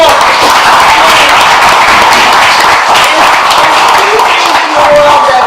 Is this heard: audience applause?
yes